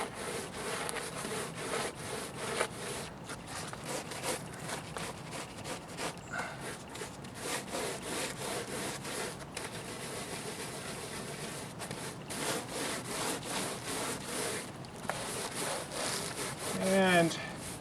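A rough scraping and rubbing of Rapid Set stucco patch worked against cardboard on a wall, in repeated strokes at close range, with a faint voice briefly near the end.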